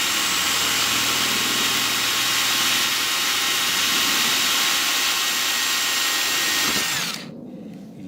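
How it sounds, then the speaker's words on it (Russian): A power drill bores a hole into a coconut shell, a loud continuous whine held steady for about seven seconds before cutting off abruptly, leaving quiet room noise. "Сначала я сделаю отверстие сверлом."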